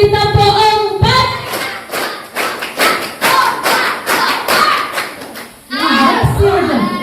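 A group of children claps a rhythmic pattern in unison during a storytelling session. Sharp, evenly spaced claps come in bursts, and an adult voice speaks before and after them.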